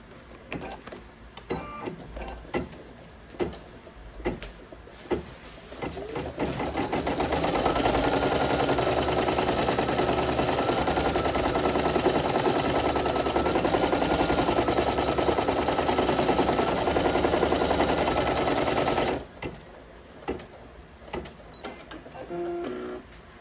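Embroidery machine stitching a shaker bag tag in a 4x4 hoop: scattered clicks and beeps first, then a loud, steady, rapid mechanical rattle for about twelve seconds before stopping, followed by a few more clicks.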